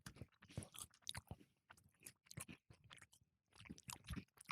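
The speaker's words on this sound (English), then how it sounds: "Enjoy our chewing." Close-miked chewing of food by podcast hosts at a microphone: a steady run of wet, crunchy bites and mouth noises in uneven bursts, with no talking.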